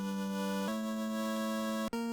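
Final Fantasy save-game jingle from the video game, a short chiptune-like tone sequence of a few sustained synthetic notes stepping in pitch, clean and fairly soft with no talk.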